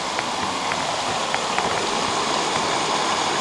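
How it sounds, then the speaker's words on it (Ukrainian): The Manyava waterfall gives a steady rushing, splashing roar of falling water, close and fairly loud, with small drips and splashes on top and no talking. "Тут водоспадик класний, ну дай його познімаю."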